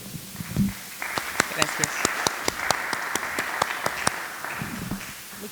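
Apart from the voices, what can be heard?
audience applause for the doctor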